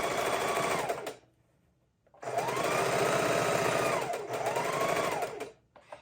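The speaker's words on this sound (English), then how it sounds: "Needle down, flip, and sew up the next side." Sewing machine stitching trim or lace onto a junk journal cover, running in two steady bursts of rapid mechanical whirring separated by a brief pause, close and loud with no talking.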